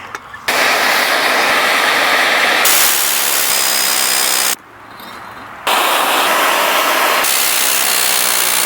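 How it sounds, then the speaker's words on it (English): An angle grinder screeches loudly while grinding off metal bolts on an 80 Series Land Cruiser, in two long bursts, close up, with a brief quieter pause between them. "I'm just going to have to grind it off."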